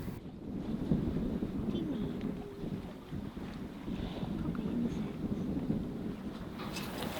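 Wind rushes across the microphone over a steady low rumble of water moving past a sailing boat, continuous and close.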